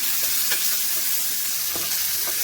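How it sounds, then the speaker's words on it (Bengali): Onions and coriander leaves fry in a pan with a constant loud sizzle, broken by a few soft stirring scrapes. "পেঁয়াজ ভাজা হয়ে গেছে, দিয়ে দিলাম ধনিয়া পাতাটাও একটু হালকা ভেজে নিব।"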